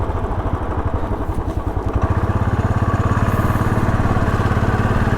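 A Kawasaki ER-6N naked motorcycle engine runs steadily and loud, with a rapid, even low pulsing that tightens into a faster, smoother throb partway through; no voices.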